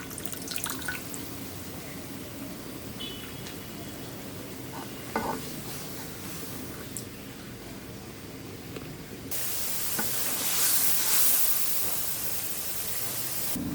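Spice paste, two green chillies and garlic paste sizzle in hot oil, a steady spattering hiss that jumps louder and brighter partway through as more goes into the pan.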